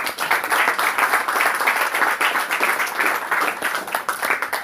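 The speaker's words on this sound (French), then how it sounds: "Applaudissons donc alors." Steady, dense applause from an audience at a gathering of intercessors, many hands clapping together without pause at close range for several seconds, loud and even throughout.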